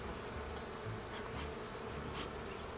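Honeybees from a small caught swarm hum in a steady, dense drone while their hive is opened for inspection, a continuous close buzz with no voices.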